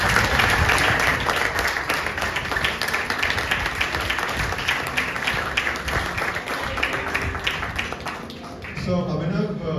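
Loud, sustained audience clapping fills a room at an office award ceremony, dense and continuous before tapering near the end as voices begin.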